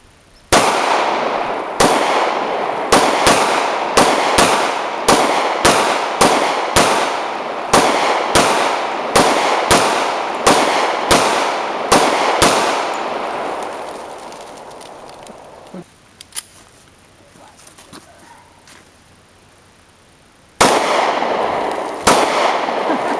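Handguns and rifles, including a Glock 27, Hi-Point .45, Ruger GP100 .357 and Marlin Model 60, fire at a shooting range in a fast string of about twenty loud, sharp shots, then a quieter pause and another shot.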